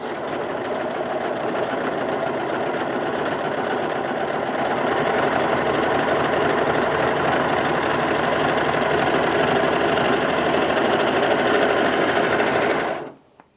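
Brother 2104D overlocker sewing through denim, a continuous fast mechanical whirr and rattle running steadily for about twelve seconds before stopping abruptly.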